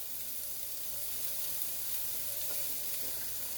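Chopped onion, garlic and ginger sauté in a pan over medium-high heat, giving a soft, continuous sizzle with faint stirring scrapes, quiet and steady with no voices.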